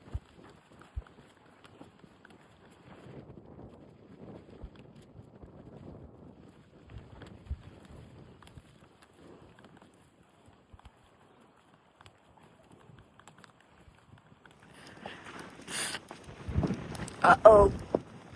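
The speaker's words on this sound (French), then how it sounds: "J'espère que vous m'entendez puisqu'il y a du vent." Gusty wind buffets the microphone outdoors during a horse riding session, a low rumbling hiss that swells into strong, loud blasts in the last few seconds, with soft voices and movement under it.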